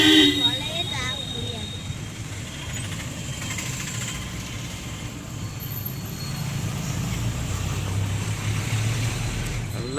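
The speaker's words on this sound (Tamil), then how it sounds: "நல்ல டிராஃபிக், எவ்வளோ டிராஃபிக் அது இருக்குது" Road traffic on a busy route to a temple during the Aadi Perukku festival, a steady rumble of car and truck engines with a brief horn at the start, heard from inside a moving vehicle.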